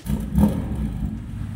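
Range Rover SV with a 4.4-litre biturbo V8 engine giving a short, deep rev that swells quickly and then settles into a low, steady rumble, heard close and alone.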